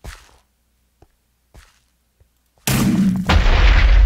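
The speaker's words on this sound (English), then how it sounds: "Hey, why are you shooting at me?" Gunfire in a Minecraft zombie mini-game: a few faint, sparse shots are followed by a sudden loud, sustained burst of blasting and booming noise that fills the rest of the moment.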